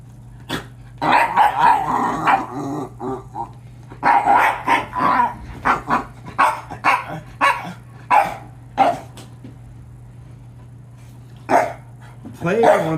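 A dog barking and growling in irregular bursts, some short sharp barks and some rougher growls, close by over a steady low hum, with quieter gaps between.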